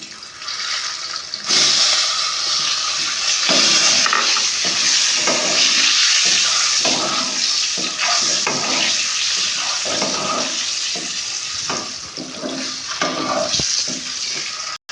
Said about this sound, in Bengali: এবার আমি ডিম 4টে এর মধ্যে ভেজে নেব।